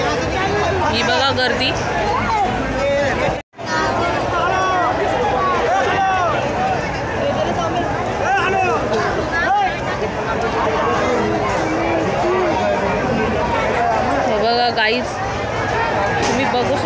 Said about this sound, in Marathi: ही बघा गर्दी.